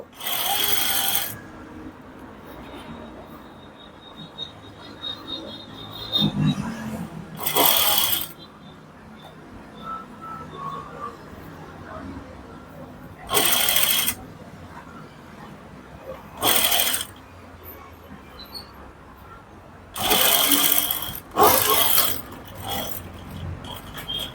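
Sewing machine stitching a boutique-style blouse, running in several short loud bursts separated by pauses, close up, with someone speaking softly between runs.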